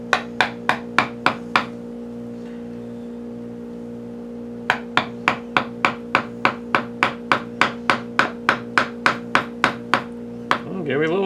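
A hammer taps a chisel into pinewood in a long run of quick, evenly spaced sharp strikes, pausing once before resuming, over a steady droning background hum.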